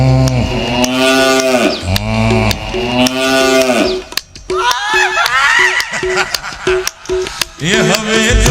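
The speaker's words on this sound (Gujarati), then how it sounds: "આ ભેંસ જેવું લાગે ને ભાઈ કે વાછરડા જેવું લાગે" A buffalo or calf moos in long, loud drawn-out calls near the start, followed by shorter bleating cries and clicking noises, with voices present over the animal calls.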